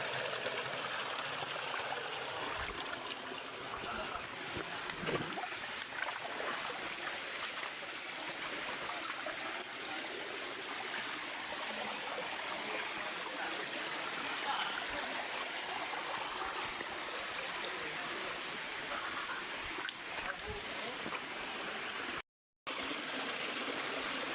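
A small mountain stream flows over rocks, a continuous close, full rushing and trickling wash that stays steady throughout, briefly cutting out near the end, with no voices.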